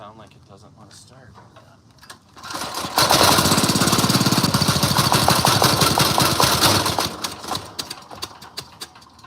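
A small carbureted engine sputters and labours trying to start, rising from a rough low rattle into a loud, uneven chugging roar that fades slightly toward the end, close up.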